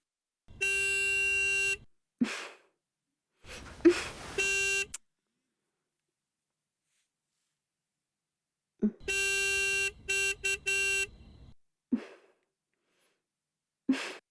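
Two long, steady car horn blasts sound from outside, separated by a pause, with a few shorter honks and faint breathy noises in between.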